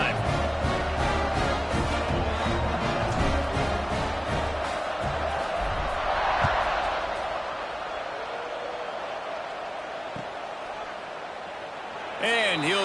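Roaring stadium crowd at a football game in Houston, a dense, loud sustained wall of cheering and noise that carries on through the whole stretch, with an announcer talking over it.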